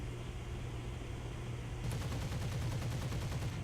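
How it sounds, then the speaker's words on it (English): Guns of a Messerschmitt 163 Komet rocket fighter fire in a flight game: a steady low hum, then a rapid, even burst of shots that runs on to the end, fairly quiet and without talk. "there's the last of the ammunition in the guns"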